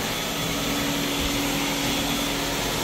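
A vacuum cleaner runs continuously inside a home, a loud, steady broadband whir with a faint tonal hum and no talking over it.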